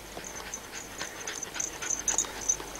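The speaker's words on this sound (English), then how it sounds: "Dog." Dog panting in a large well-kept garden, quick soft breathy pants in a steady rhythm, fairly close but quiet, over faint outdoor background noise.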